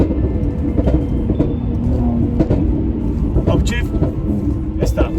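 A 2021 Mercedes C43 AMG, built in Germany, rumbles steadily up close while the engine note rises and drops through gear changes, with brief sharper bursts near the end.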